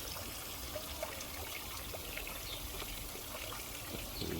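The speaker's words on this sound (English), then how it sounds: "there's a creek right back there" A creek trickles steadily near a woodland nature pond, its soft broadband wash of running water continuous and even throughout, with no talking.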